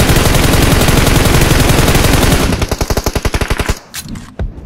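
Automatic gunfire in PUBG Mobile sprays in a loud, rapid burst, then continues as distinct evenly spaced shots before breaking into a few scattered final rounds and fading.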